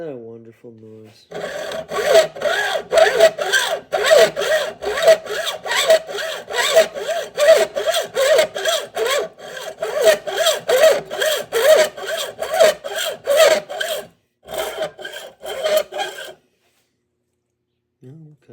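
Hand saw cutting through a part of an SZCO Bowie knife: rapid, regular rasping strokes, close and loud, running for about fifteen seconds before stopping.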